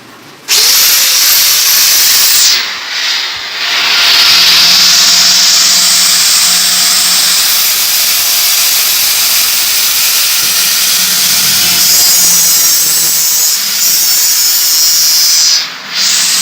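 A repaired Bosch angle grinder runs steadily at high speed, a loud continuous whine and hiss that holds for the whole stretch with only a couple of brief dips, and no voices over it.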